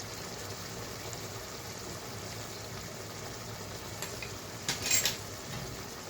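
Mutton being stirred in a pan with Kashmiri chilli and turmeric powder: steady, close scraping and clinking of a utensil against the metal, with a louder scrape near the end and no talking.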